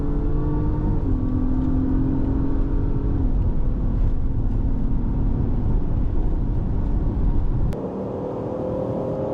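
A Dodge Durango Hemi and an Acura MDX Type S race, with a loud, near engine drone climbing through several gear changes before a sudden shift drops the pitch near the end.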